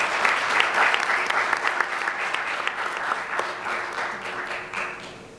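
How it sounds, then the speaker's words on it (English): An audience applauds panelists at a Women in Optics panel on diversity and inclusion in science and engineering, a steady dense wash of clapping that stays loud throughout and tapers only slightly near the end. "So let's give a round of applause to our panelists."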